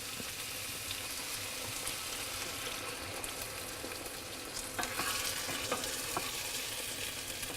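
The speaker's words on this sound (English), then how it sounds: "we want to put some red wine in here" Puttanesca sauce sizzling and bubbling in a pan as red wine goes in, a steady close crackle with a brighter surge of hissing and a few clinks partway through.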